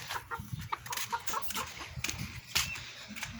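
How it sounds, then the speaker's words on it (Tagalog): Bantam chicken clucking nearby, a quick series of short clucks in an uneven rhythm over faint background noise. "Tignan nyo yung bantam ko dito."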